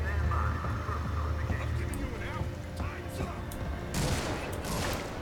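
Bursts of gunfire from the Alien Isolation video game, heard as a rattling volley over a dense, rumbling game soundscape with a loud burst near the end.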